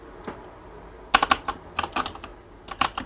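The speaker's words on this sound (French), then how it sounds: "dans l'invité de commande, on va taper la commande" Keys tapped on a computer keyboard while entering a command in a command prompt during a Windows 11 installation, a sparse run of sharp clicks in short bursts, close and clear.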